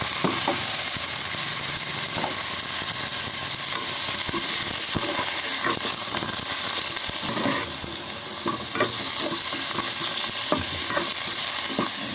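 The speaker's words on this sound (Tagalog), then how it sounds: "And then guys, lagay na natin yung iba't ibang gulay natin." Mixed vegetables sizzle in a pan while being stirred. A dense, constant frying hiss runs throughout, scattered with clicks and scrapes of a utensil against the pan and a slight dip in loudness midway.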